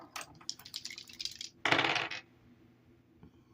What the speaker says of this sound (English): So let me roll these zodiac dice here.